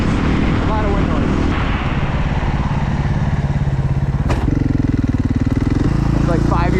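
A motorcycle engine throbs steadily at about 50, with heavy wind rush through the helmet and a rider talking over the noise; the engine pitch shifts midway.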